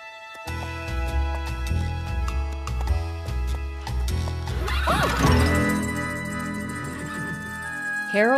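A horse neighs with a rising, whinnying call amid a busy, music-heavy soundtrack, the neigh standing out mid-clip and a brief second whinny near the end.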